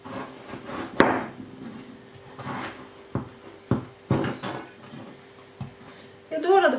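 A knife cuts through a frozen orange and lemon on a board, with sharp knocks and crunchy scraping strokes in an irregular rhythm, close and clear, followed by a short burst of cutting at the end.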